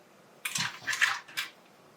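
Hot pasta cooking water splashes from a pot into a bowl in a home kitchen, a few short sloshing pours with pauses between them, close and moderately loud.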